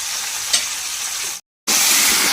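Cauliflower seasoned with salt and a little turmeric stir-fries in a pan with a steady, close sizzle and hiss of frying, broken by a brief moment of silence before the crackle resumes.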